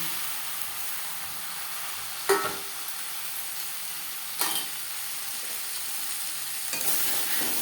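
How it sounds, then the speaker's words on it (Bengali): Bhetki fish oil melting and frying with onions in a pan gives a steady soft sizzle, while a spatula knocks and scrapes against the pan now and then, close up with no speech. "পেঁয়াজের সাথে মাছের তেল বেশ ভালো করে মিক্স করে দেব"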